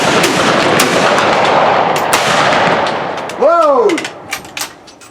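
A volley of Victorian-era rifles fires at an outdoor rifleman shoot in Bowling Green, Kentucky, giving a loud crackling blast with a long rumbling tail, followed by a single shouted command and scattered later pops.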